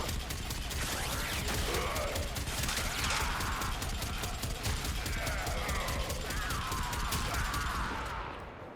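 Saryn's Toxic Lash attacks in Warframe, a dense, fast stream of rapid metallic strikes and impacts with swishing bursts layered over one another, loud and continuous before tailing off at the end.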